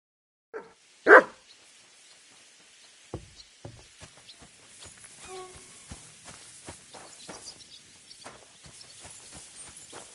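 A dog barks in Kingdom Come: Deliverance 2, a sharp yip and then one loud bark near the start, followed by footsteps and small knocks while the dog stays quiet.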